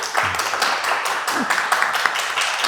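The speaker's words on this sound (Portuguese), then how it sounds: "O pessoal pediu uma salva de palmas para os nossos." An audience at the Roraima 40 Anos open-dialogue event claps for a couple of seconds, with close, sharp individual claps standing out in a fairly dense patter.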